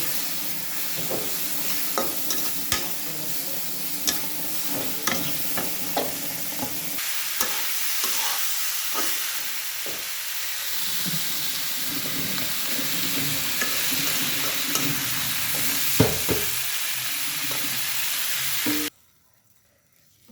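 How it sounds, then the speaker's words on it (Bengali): Tomato, onion and ground spices frying in a pan for a fish curry, a continuous sizzle with repeated scraping stirs and clinks of a utensil, ending abruptly in near silence. "টমেটো পেঁয়াজ মশলা গুঁড়ো ভাজি করা হচ্ছে"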